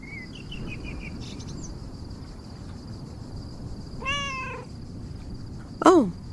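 Cats meow in the video game Lake: a soft, high-pitched mewing early on, then two clearer meows a couple of seconds apart, the last loudest, over a steady outdoor background with faint insect-like chirping.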